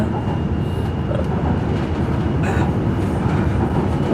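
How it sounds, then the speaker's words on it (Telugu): A driverless train in Korea runs with a steady, loud interior rumble and rolling wheel noise, heard from inside the car with no voices. "ఇది డ్రైవర్లెస్ ట్రైన్"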